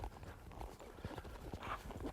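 A young colt's hooves walk in steady, uneven clip-clop steps on the ground during a colt-starting session, close and moderately loud, with faint handling noise around.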